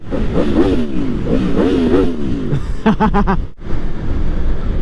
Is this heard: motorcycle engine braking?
yes